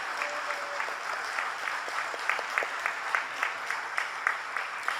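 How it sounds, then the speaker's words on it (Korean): Congregation applauding during a church anniversary worship service, a steady wash of many hands clapping with rhythmic accents emerging toward the end, moderately distant and reverberant. "감사와 영광의 박수를 올려드립니다"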